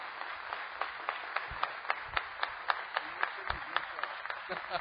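Scattered, irregular clapping from a church congregation during a live worship service, sparse hand claps rising and falling at moderate loudness with no talk over them.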